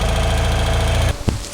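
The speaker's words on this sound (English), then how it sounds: "I've just readjusted the tick over on the engine." BMW R75/6 air-cooled boxer twin idling after a tick-over adjustment, a steady close low throb that cuts off abruptly partway through, followed by a couple of brief knocks and fading rumble.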